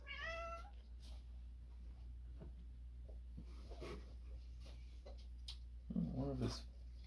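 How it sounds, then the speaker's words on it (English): A house cat gives a clear, high meow at the start and a lower, throaty meow near the end, both close but soft over a steady low background hum, with faint sounds between. "My cat's on it."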